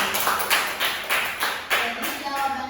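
Classroom clapping from a small group comes in quick uneven bursts, moderately close, over a faint murmur of voices.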